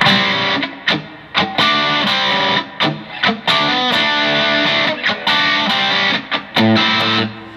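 An electric guitar plays a choppy funk riff, mixing ringing notes with quick muted scratches in a steady syncopated rhythm, close and loud.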